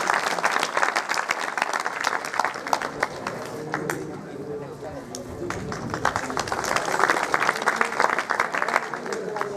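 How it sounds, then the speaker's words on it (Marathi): Audience at a school batch reunion gathering applauds a retired former headmaster, steady dense clapping from a crowd that swells and continues throughout, with some chatter mixed beneath. "सर्वजण टाळ्या."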